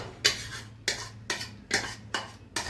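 Mixed vegetables for a Punjabi sabzi are stirred in hot oil in a pan, a spoon scraping the metal in about six regular, close, clattering strokes, with no voice.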